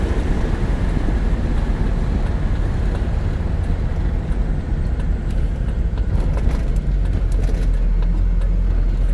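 A 1970 Chevrolet Camaro SS 350 engine runs steadily with a deep, heavy rumble and constant road noise, loud and close, with no talking.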